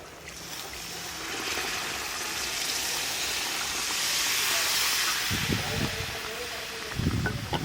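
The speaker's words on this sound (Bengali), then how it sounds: "মশলা কষানো হয়ে গেছে এখন গরম জল দিয়ে দেবো" Hot water poured onto sautéed spice masala for paneer korma sets off a loud, sustained steamy hiss that swells and holds, with brief low voice sounds near the end.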